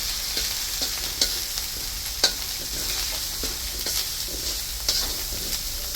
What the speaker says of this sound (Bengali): মশলাটা ভালো করে কষানো হলো।